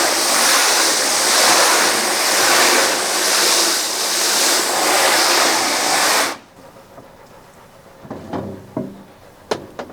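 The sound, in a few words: water spraying from a hose nozzle onto a screen-printing screen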